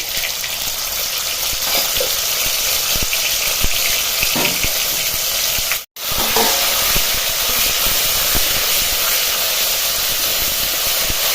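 Green chili paste frying in hot oil with mustard seeds and cumin, a loud continuous hiss and sizzle with small crackles, briefly cutting out midway before resuming, no talking.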